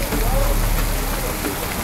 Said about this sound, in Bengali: দেখেন কি পরিমাণ দেখেন বৃষ্টি নামছে।